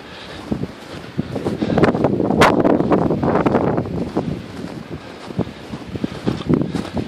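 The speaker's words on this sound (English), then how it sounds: "the wind died down a bit." Cold February wind by the Baddeck River buffets the microphone in gusty, rumbling swells, rising and falling close up with no voices.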